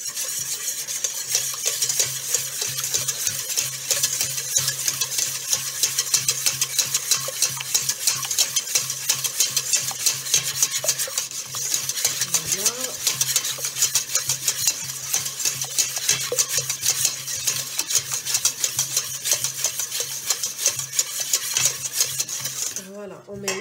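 A utensil stirring a batter of eggs and melted butter in a bowl, a continuous rhythmic scraping and tapping, close and steady for the whole stretch.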